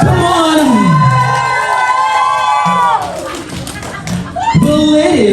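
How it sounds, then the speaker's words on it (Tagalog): A crowd at a company annual party cheers and shouts with whoops and some clapping, loud and close, with the excited voices rising and falling and children shouting among them. "bigyan natin sila ng masigabong palakpakan na may hiyawan"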